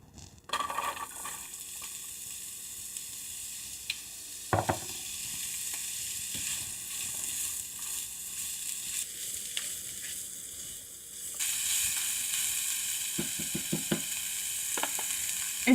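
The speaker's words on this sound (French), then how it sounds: "Je fais chauffer mon huile et je vais rajouter mon oignon et mon ail." Onion and garlic frying in hot oil in a pan, a continuous bright sizzle that swells louder near the end, with occasional stirring scrapes and knocks, close and without talk.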